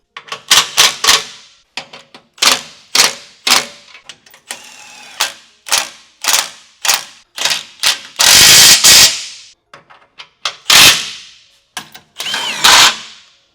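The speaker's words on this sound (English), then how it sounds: "now we have all the lower fasteners and the rear brackets completely tightened down" A hand ratchet tightens fasteners and brackets on rock sliders for a Jeep Gladiator JT, heard as quick bursts of close, sharp clicking separated by short pauses, with a couple of longer, denser runs.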